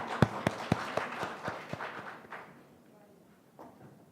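Scattered applause for a student contestant at a youth speech competition, a handful of sharp individual claps close by that quickly thin out and die away into quiet.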